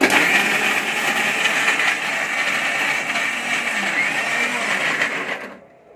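A mixer grinder whirs at full speed, grinding masala for a Tirunelveli fish curry, a loud steady buzzing drone that cuts off abruptly at the end.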